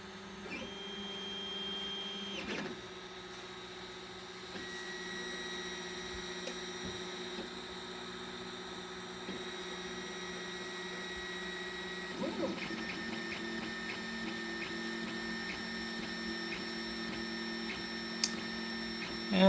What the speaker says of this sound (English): Take the file over to the printer. And the printing begins.